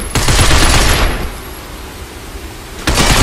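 In the video game Binary Domain, gunfire aimed at a sign comes as a loud, close burst of rapid shots that fades away, then breaks out sharply again at the end.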